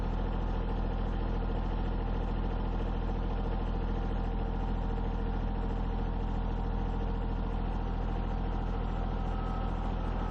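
A tractor engine runs at a steady idle for the whole stretch, a continuous, even rumble with no voices.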